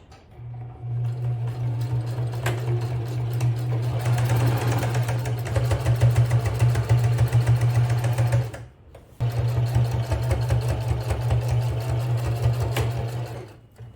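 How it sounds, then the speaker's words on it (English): A sewing machine top stitches a travel bag, its motor whirring close and steady in a fast rhythmic run, pausing briefly halfway before starting up again for a second long stretch. "back here in the sewing machine, and I'm going to start to top stitch"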